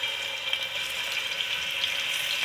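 Garlic and ginger paste frying in about three tablespoons of cooking oil gives a steady, even sizzling hiss that stays close and constant throughout, with no voices over it.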